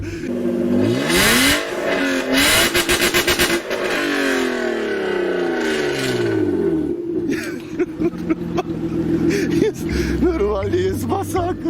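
A car engine that sounds like a five-litre unit revs hard and loud, rising and falling in repeated sweeping pulls, close by, with voices and laughter in between.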